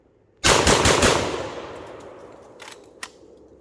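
A Lynx 12 shotgun fires one loud, close blast that rings out and decays over about a second, followed by two sharper, quieter metallic clacks as the action cycles.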